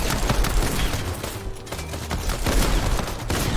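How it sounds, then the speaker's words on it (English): Dense gunfire in the Fortnite video game, a continuous barrage of overlapping shots and cracks with a brief lull midway, no talking. "Okay, who's shooting at me?"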